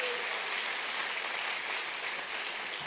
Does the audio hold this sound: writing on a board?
no